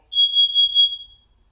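Nest Protect 2nd generation detector sounding its carbon monoxide test alarm indoors, a loud shrill piercing beep pulsing about four times in quick succession before cutting off, alone with no talk.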